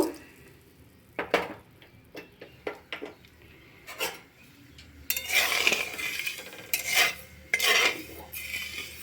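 A cup and a cooking pot handled while sugar syrup is made from a cup of sugar and a cup of water: scattered clinks and knocks, then louder pouring and splashing with metallic scrapes, no voices.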